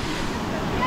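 Waterfall in India, a continuous broadband roar of falling water, close and steady through the brief moment with no talking.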